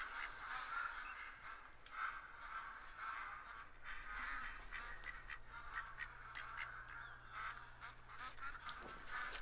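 Wild waterfowl in the hunting game theHunter: Call of the Wild honk and quack repeatedly at a moderate distance over a steady outdoor ambience.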